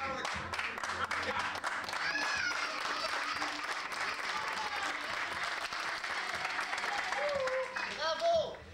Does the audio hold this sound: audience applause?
yes